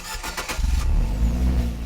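A 1.4-liter turbocharged four-cylinder engine in a 2017 Fiat 124 Spider Lusso fires up and settles into a steady, rumbling idle with a low throaty hum, close and fairly loud.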